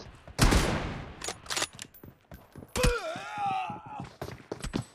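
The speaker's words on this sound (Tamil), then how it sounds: "ஷாட் கன் அடிக்கிறான் M24 அடிக்கிறான்" Shotgun and M24 sniper rifle fire in the mobile shooter BGMI: a few sharp booming shots and thuds at irregular intervals, with game effects and some voice in the background.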